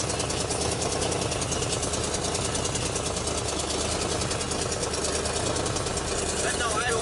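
A car engine fitted with a modified exhaust runs at a steady, loud rumble with a throbbing note that carries through the whole stretch.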